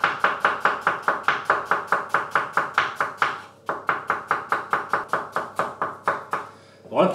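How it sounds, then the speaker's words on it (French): Red onion sliced finely with a knife on a board, a steady run of crisp, evenly spaced cuts, close and clear, pausing briefly midway and near the end before resuming. "un peu d'oignon rouge émincé très finement"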